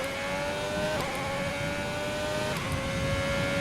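An F1 2020 race car in a PS4 video game, engine droning steadily at high revs with quick gear upshifts that briefly dip the pitch, loud and continuous throughout.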